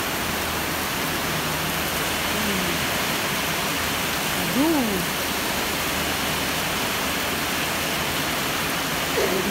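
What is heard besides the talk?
heavy rain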